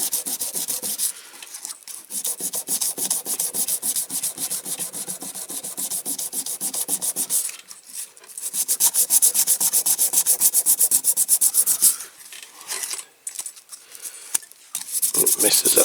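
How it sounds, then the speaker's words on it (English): Wet-and-dry sandpaper scrubbing rock-hard filler on a Dinky Ford Transit van model, a close, steady rasping in quick back-and-forth strokes with a few brief pauses. "so I've got a bit of wet and dry, so just going to sand it."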